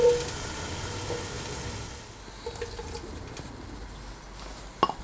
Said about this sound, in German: So genügt mir das mit dem Anbraten hier von dem Rindfleisch.